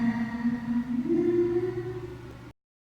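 Eerie singing from the Specimen 4 monster during a chase in Spooky's Jump Scare Mansion: one sustained, wavering vocal tone lasting about two and a half seconds that slides upward midway, then cuts off abruptly into silence.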